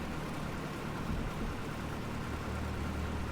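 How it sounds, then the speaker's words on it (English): Cessna 172 engine idling on the ground in Prepar3d, a steady, muffled low drone heard faintly as if through headphones, with no talk. "So now you can barely hear the engine because I put the headphones on."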